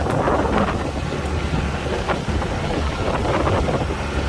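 Polaris RANGER XP 1000 side-by-side riding a really bumpy road at about 18 mph: a loud, continuous rumbling drive noise with heavy wind buffeting on the microphone and scattered rattles and knocks throughout.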